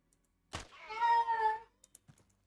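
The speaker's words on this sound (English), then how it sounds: "Sorry about the cat." A house cat meows once, clearly and fairly close, a drawn-out tonal call, followed by a few faint thumps and soft clicks in an otherwise quiet room.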